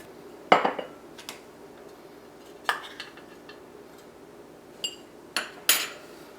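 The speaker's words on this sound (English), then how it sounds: "I'm going to grab a little silicone spatula, and I just want to go around and loosen them up" A small silicone spatula works around the edges of baked chocolate cakes in their pan, giving a handful of sharp, scattered clinks and knocks against the metal, with quiet gaps between.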